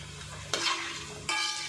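Four green chillies fry in hot oil while chicken maqluba biryani is being made, giving a bright, close hiss that surges twice in short bursts over a softer sizzle; nobody speaks.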